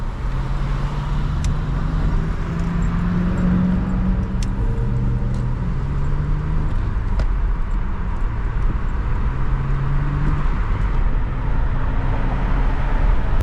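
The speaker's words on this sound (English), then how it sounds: "As you do clutch in, shift into 1st, slowly let it out, and you can continue moving into 2nd." A manual-transmission car pulls away and shifts from first into second, its engine drone rising and dropping steadily inside the cabin, loud and continuous with road noise.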